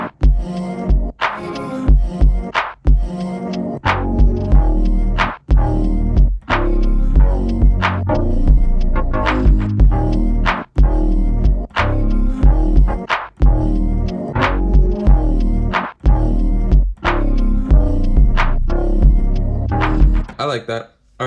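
A song plays through an SP-404 MKII sampler with chorus, 303 vinyl wow-and-flutter and compression effects applied, giving a steady, loud, warbling beat with regular thumping pulses throughout and no voices over it.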